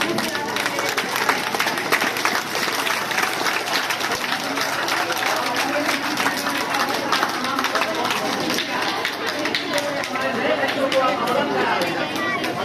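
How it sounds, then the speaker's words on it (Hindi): Steady, dense applause from a school workshop audience clapping for the team, sustained and fairly loud throughout, with crowd chatter mixed underneath. "एक बार फिर से पूरे टीम के लिए, सर के लिए बहुत बहुत ताली बजाइए।"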